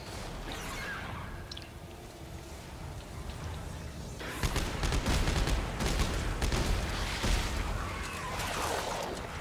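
Gunshots in the video game Dead Space 3, a dense volley of sharp cracks and bangs that thickens into rapid bursts midway, loud and close, mixed with a busy game background.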